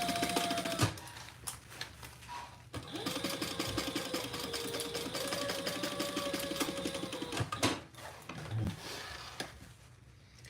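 A sewing machine runs unthreaded while corners are boxed during a group sewing session, a fairly quiet, steady mechanical whir and rapid ticking that keeps going for most of the stretch, briefly pausing and then fading near the end.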